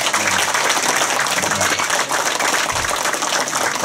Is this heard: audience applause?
yes